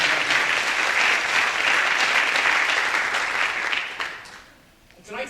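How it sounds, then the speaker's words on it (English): An audience at a high school athletic awards ceremony gives a sustained round of applause, dense and even for about four seconds before tapering off, with a voice returning faintly at the end. "please give a nice round of applause to Senor Greg"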